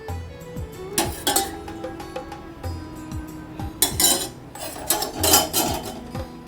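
A ladle stirs batter in a pan while a black gram laddu is being made, giving irregular metallic clinks and scrapes of moderate loudness with uneven bursts and no talk.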